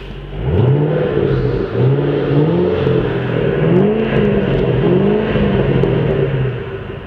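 A 2010 Shelby Mustang coupe with a 540 HP engine and six-speed runs and revs repeatedly, its loud, close rumble rising and falling in several swells over a steady idle.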